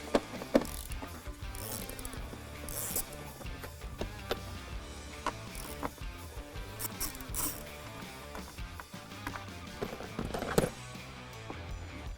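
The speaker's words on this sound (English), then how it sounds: "And then we're going to take our 10mm and pull the 2 10mm screws." Quiet, intermittent clicking of a ratchet with a 10mm socket backing out two 10mm screws from the tail light area of a 2021-2022 Ford Bronco, with small clinks and handling noises between bursts.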